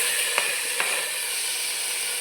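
Curry leaves and tomato frying in a pan for chicken green masala, giving a steady close sizzle with two soft clicks of a utensil early on.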